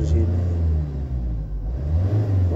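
Low, steady rumble from a Citroën Jumpy 3 2.0 HDI diesel engine under acceleration, close and loud, with someone talking over it.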